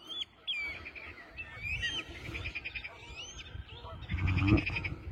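Frogs croaking at a park lake in Valenton, faint and intermittent, mixed with higher chirping bird calls and a louder burst of calls near the end over soft outdoor ambience.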